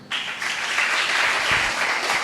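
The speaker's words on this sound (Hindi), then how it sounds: "वाह, क्या तालियां बजी है।" Audience applause at a Hindi-language gathering breaks out suddenly and holds as a full, even burst of clapping from many hands for about two seconds.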